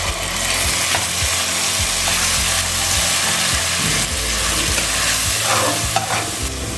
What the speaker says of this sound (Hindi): लहसुन अदरक को भी हल्का भून लेंगे